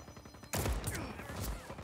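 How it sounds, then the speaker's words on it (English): A single sharp sniper rifle shot in the Just Cause 4 video game bursts in suddenly and loud, followed by a rumbling echo that fades out over the next second. "Somebody just sniped me."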